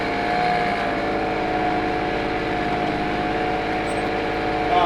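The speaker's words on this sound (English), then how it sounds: "It does not like this matted up hay. At least this tractor doesn't." A tractor mows through matted hay in a pasture, its engine droning loud and steady with a low, strained rumble throughout.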